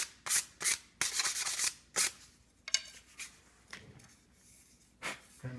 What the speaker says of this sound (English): We'll just clean that up ever so slightly with some sandpaper.